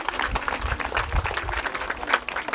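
An audience at a school civil protection exercise applauds the people in different-coloured uniforms, with dense, lively clapping and some louder individual claps standing out near the microphone.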